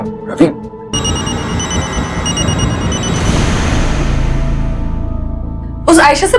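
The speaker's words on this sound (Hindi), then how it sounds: "फोन उठा" A phone rings steadily under dramatic background music, with a brief voice at the start and another at the end.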